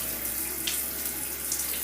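Tap water runs in a steady, close, continuous stream while hair is rinsed in a shower before deep conditioning, with no talking.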